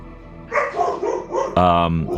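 A dog barks several times in short bursts close by, indoors, loud and sharp, mixed in with a voice.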